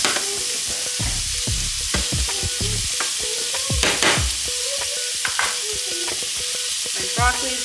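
Shrimp sizzles in a hot pan with a continuous hiss, while irregular clanks and stirring knocks and some tonal sounds run over it.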